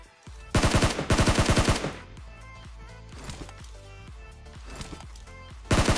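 SCAR rifle fire in PUBG Mobile: two loud bursts of rapid automatic shots near the start, followed by scattered quieter single shots and thuds, then another burst at the end.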